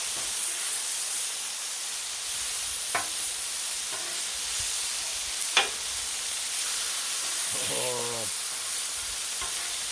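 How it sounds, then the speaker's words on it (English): Smash burger patties searing on a Blackstone griddle give a steady, loud, broad sizzling hiss throughout, with a few faint spatula taps and a brief voice in the background. "We're getting that sear, y'all."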